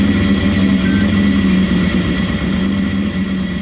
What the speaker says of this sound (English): We got engine running, Brad, and let's make sure our audio is good